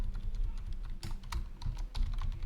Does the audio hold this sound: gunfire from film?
no